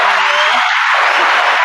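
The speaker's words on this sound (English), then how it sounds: "Clap it up. Clap it up." A studio audience claps and cheers at the Your Queens inc. "Behind the Crown" season finale, a steady wash of applause lasting throughout without any talk.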